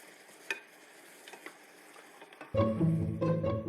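Water splashes into a hot cooking pan to loosen caramelizing food, with a few light clicks and taps first, then a sudden sharp hiss and loud bubbling sizzle that keeps crackling.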